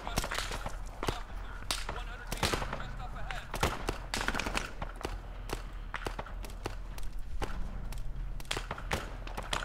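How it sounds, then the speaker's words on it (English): Gunfire in Arma 3: repeated sharp rifle shots and short bursts crack irregularly throughout, some near and loud, others more distant, with voices talking intermittently between the shots. "Okay, you guys are shooting them."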